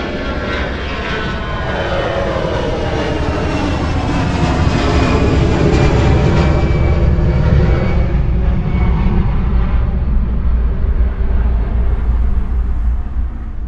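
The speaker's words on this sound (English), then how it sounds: "Experience how capable the Auro-3D system is at reproducing the exact position of an airplane as it passes by, from taking off to flying directly overhead" An airplane taking off at an airport roars steadily, swelling as it passes by overhead in a cinema surround-sound demo; a broad, continuous engine rumble with a high whine, loud throughout and alone without voices.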